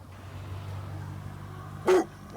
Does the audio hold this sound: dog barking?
yes